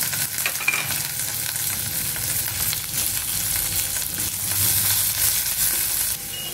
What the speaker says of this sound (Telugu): ఉల్లిపాయ ముక్కలు లైట్గా ఫ్రై అవ్వాలి